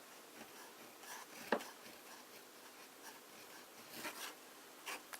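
A flexible-nib Conway Stewart St. Blazey fountain pen scratches and rubs softly across paper in short strokes with brief pauses, quiet and close.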